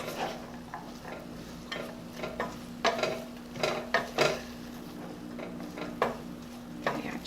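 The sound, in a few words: stirring mushrooms and carrots sautéing in a pot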